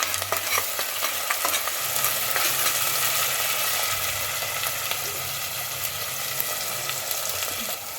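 Mutton curry with fresh mint stirred in a pan, a steady close sizzle under continuous scraping and stirring for the whole stretch, with no voices.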